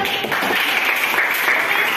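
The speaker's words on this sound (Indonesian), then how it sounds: "Ayo tepuk tangan." A classroom of students applauding together in a steady broadband patter of claps, fairly loud and close, with voices mixed into the clapping.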